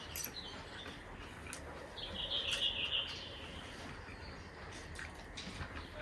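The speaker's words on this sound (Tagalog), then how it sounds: "Daming ibon ngayon, nag-migrate na dito sa Finland." Outdoors in Finland, birds chirp and sing over a steady background hiss, with a brighter cluster of quick calls in the middle and scattered faint tweets, moderately distant.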